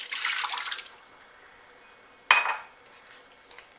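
Water poured into an Instant Pot with ribs set on a metal rack: a splashing pour at the start, then a sharp metallic clink and a brief trickle, close and moderately loud, with no talk.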